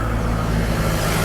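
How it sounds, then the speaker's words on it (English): Loud, continuous road traffic rumble fills the short stretch, a steady low roar of passing cars with no break and no voices. "sorry about all this traffic noise"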